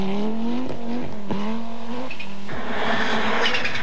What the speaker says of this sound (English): you can see the effort that it takes to keep this 400 horsepower machine down on the snow